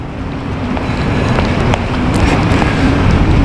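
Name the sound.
wind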